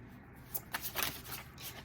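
Quiet shuffling of a large, loose-feeling Pulp Tarot card deck, a few soft riffling bursts and flutters of cards, close and low in level, with no talk.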